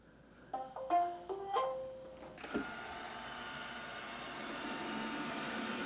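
A series of electronic beeps and rising whirs, then a steady loud whooshing hum of an iRobot Roomba Combo robot vacuum running continuously nearby in vacuum mode.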